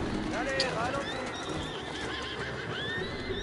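Horses neigh and whinny with hooves clip-clopping in Assassin's Creed Syndicate, several short whinnies over busy game ambience, with someone talking over it.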